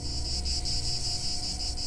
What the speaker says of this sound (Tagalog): marami kasi sa atin pagka nakarinig ng huni ng sikada tulad nito